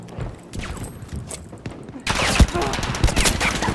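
Battlefield V machine gun fires at long range: quieter game ambience gives way to a sudden, loud, dense rattle of rapid shots for the second half.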